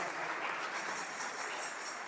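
Church congregation claps to welcome someone entering, a continuous, fairly faint wash of many hands applauding evenly throughout, with no voices rising above it.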